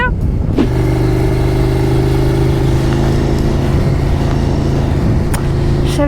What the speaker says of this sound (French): Je savais bien qu'il y avait une voiture dans mon angle mort.